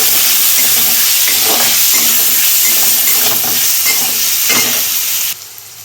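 A Bengali tempering of bay leaf, a whole dry red chilli, five-spice seeds, garlic paste and chopped onion frying hard in hot oil, with loud, close sizzling and periodic stirring strokes that stop abruptly near the end.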